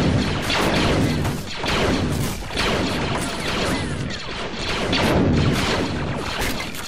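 Frag grenade blast amid heavy, continuous battle noise in the Clones of War mod, with dense crashing bursts and rumbling impacts filling the whole stretch, loud and chaotic without clear pauses.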